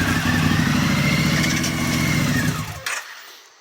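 Triumph motorcycle engine running rough after being filled with diesel, a loud close mechanical rumble that holds steady for a few seconds then sputters and cuts out abruptly into silence.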